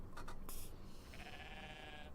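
A bighorn sheep bleats in the video game Everything, a short bleat over a dense, steady game ambience.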